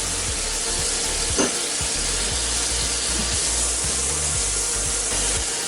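Butter sizzling in sugar that is starting to caramelize in a pan, a steady dense crackling hiss with faint scraping and stirring underneath, close and continuous with no talking.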